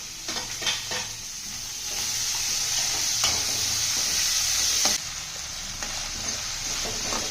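Capsicum and carrot stir-fried in a pan for macaroni pasta, with steady sizzling throughout and a few short scrapes and stirring knocks, close and alone.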